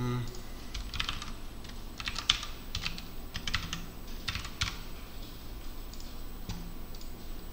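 Fast bursts of typing on a computer keyboard as code is written, close, clicky keystrokes in uneven clusters with short pauses between.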